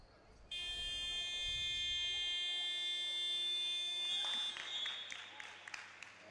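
A loud, sustained electronic buzzer marks the end of a period at a women's pro-am basketball game, holding steady for several seconds while crowd noise and voices murmur beneath, followed by scattered court sounds.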